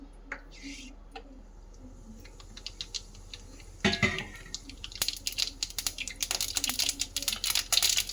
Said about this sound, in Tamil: நல்லா கடுகு பொரிஞ்சு வந்துச்சு